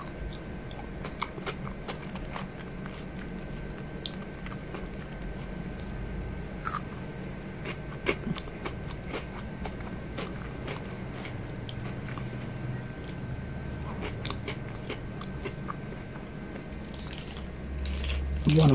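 Close crunchy bites and chewing on a chocolate snack studded with cereal, small crisp cracks recurring over a quiet steady background for most of the stretch.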